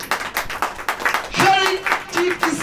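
Audience clapping at a church sermon, a dense patter of hands that continues under a voice speaking over it.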